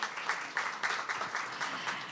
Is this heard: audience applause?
yes